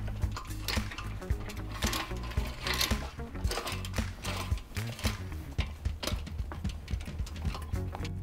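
Hand crank turning on a cantilever outdoor umbrella, opening it and lifting the boom, a run of quick rhythmic metallic clicks and ratcheting clatter, close and steady throughout without talk.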